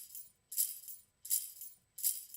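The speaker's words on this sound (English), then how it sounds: "So without the Valhalla active, you're gonna hear the shaker sound like this." A dry shaker with no reverb plays three crisp, evenly spaced rhythmic shakes, each a bright rattling burst that decays quickly into near silence.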